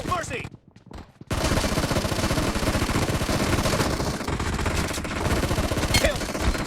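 Rapid bursts of gunfire in a gun fight, loud and sustained for several seconds after a brief quieter opening, with dense overlapping shots and shouting voices mixed in.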